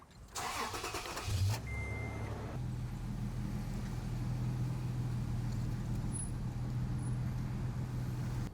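A Toyota FJ Cruiser Trail Teams fitted with a Roofnest Condor roof tent drives along with a steady engine drone and broadband rush of wind and road noise, continuous and moderately loud from inside the cab after a brief rustle at the start.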